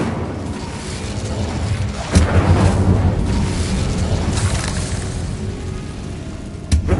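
An Incendio fire spell bursts in Hogwarts Legacy, a heavy whooshing roar that erupts suddenly and sustains loudly for several seconds before a second sharp impact near the end.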